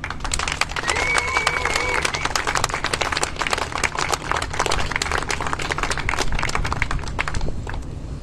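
Audience at a Pirate Party candidate presentation in Hamburg applauds, dense steady clapping sustained for about seven seconds before tapering, with crowd noise mixed in.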